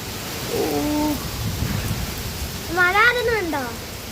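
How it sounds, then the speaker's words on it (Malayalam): Steady rushing wind and rain noise from a storm with violent wind and light rain fills the recording, with voices briefly speaking over it. "മഴ ശക്തിയിലില്ല ഭയങ്കര കാറ്റ്"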